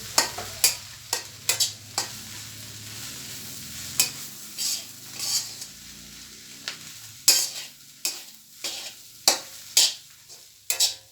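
Chicken curry ingredients sauté in a pan over a soft continuous sizzle, broken by repeated close scraping strokes of a spoon stirring and turning the food at irregular intervals.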